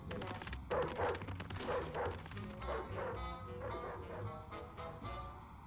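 Cartoonish dog barks and yips from the Ed Edd n Eddy: The Mis-Edventures PS2 game, repeated in quick bursts over game music and effects.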